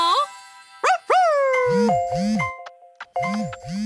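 Bright phone notification chime in an animated children's cartoon: a few short tonal dings and gliding tones, followed by a repeated bouncy low boing pattern, with no voices.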